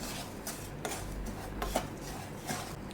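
Puttu flour roasting in a pan while being stirred, soft scraping strokes in an uneven rhythm, faint and close, with no talk.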